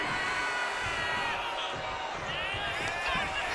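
Video game crowd cheering in WWE 2K25 as wrestler Carlito rallies the arena audience during a tag match, a steady roar of wrestling fans with brief whoops over match sounds, continuous and fairly loud throughout.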